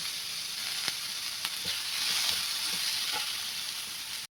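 Onion and tomato sizzle steadily in a pan for Maharashtrian bazar amti, a broad continuous hiss with a few soft spoon scrapes and taps, close and alone with no talking.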